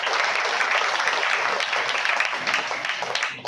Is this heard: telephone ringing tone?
no